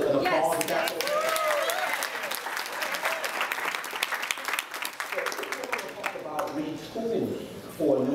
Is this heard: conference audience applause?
yes